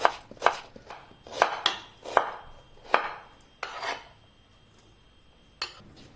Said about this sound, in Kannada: ಇನ್ನಿದನ್ನು ನಾವು ಚಿಕ್ಕ ಚಿಕ್ಕದಾಗಿ ಕಟ್ ಮಾಡಿಕೊಳ್ಳುವ.